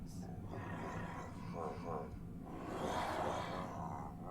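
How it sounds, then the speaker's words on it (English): The Ravager beast from Minecraft lets out deep guttural grunts and a drawn-out roar with a nasal, honking undertone, heard clearly over a steady low rumble. "the Ravager sound effects seem to have an undertone of honking to it"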